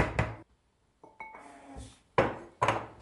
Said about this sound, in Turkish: kaşıkla karıştırıyorum